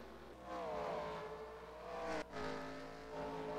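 Race cars circling a track during pit stops, one steady engine drone with harmonic whine rising and easing, a brief dip as a car passes, moderately distant and without talk.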